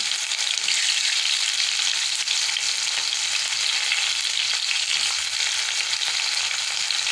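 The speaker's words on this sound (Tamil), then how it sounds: "அடுத்தது வந்து வெங்காயத்தை சேர்க்க போகிறேங்க வெங்காயம் நல்லா வதங்கணும்" Onions sizzle steadily in hot oil in a pan, fried down as the base for a ground-masala mutton curry; a loud, continuous close-up hiss with no pauses and no voices.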